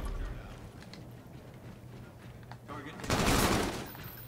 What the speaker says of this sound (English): What the hell is that dude shooting at?